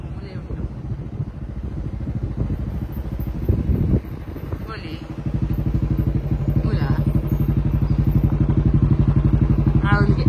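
A motorcycle engine throbs in a fast, even pulse with a few thuds early on, then grows louder and steadier as the ride picks up.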